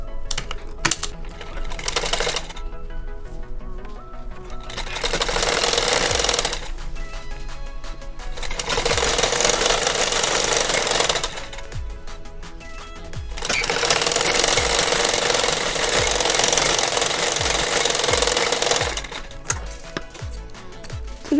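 A sewing machine stitching a lehenga choli runs in several long bursts of rapid, steady stitching, with short pauses between runs as the fabric and pasted paper backing are repositioned.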